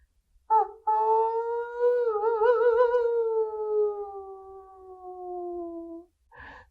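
A single voice mimics a creaking horror-movie door swinging open: a lone, drawn-out wavering moan that slowly slides downward for about five seconds, with a sharp breath before it and a short vocal burst at the end.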